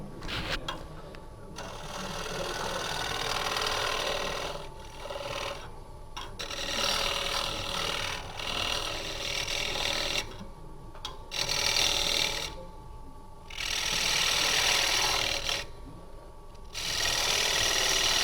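A carbide tool scrapes the inside of a wooden bangle turning on a lathe, giving a steady rasping, rubbing sound in long passes broken by brief pauses, close and fairly loud, with no talking.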